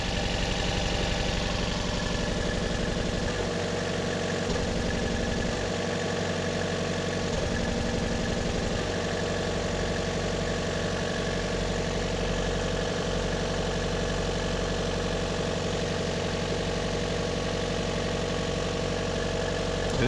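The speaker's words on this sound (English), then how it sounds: "and then a consistent partial misfire" A 2014 Chevy Volt Ecotec engine idles with a consistent partial secondary-ignition misfire, giving a steady, loud, rough hum with faint uneven stumbles in the low end throughout.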